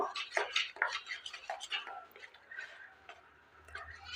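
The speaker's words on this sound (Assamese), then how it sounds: "এতিয়া গোটেইখিনি ভালদৰে মিলাই ল'ম।" A spoon scrapes and clinks against a bowl while pitha batter with baking powder or baking soda is mixed, a quick run of close, light taps and stirring strokes that thin out and trail off near the end.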